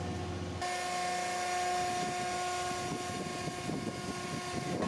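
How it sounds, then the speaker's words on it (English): A motorized winch hoists a large sign into position on a Space Shuttle amusement ride under assembly, giving a steady droning mechanical hum with a constant whine that starts abruptly and holds for several seconds. "The last job for the winch is to hoist the sign up into position."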